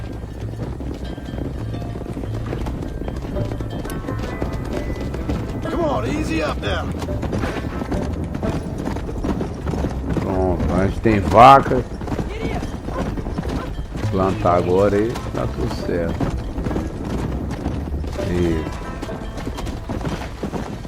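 Horse hooves clip-clop in the Red Dead Redemption video game while a horse is led into a pen on a farm. The hoofbeats run steadily under two voices talking in English and Portuguese, and a brief whinny-like burst stands out midway.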